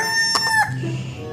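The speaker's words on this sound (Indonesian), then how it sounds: "Wow, ada ayam berkokok." A toy rooster from an animal figure set plays a recorded cock-a-doodle-doo, a single loud, close crow that trails off, with no talking.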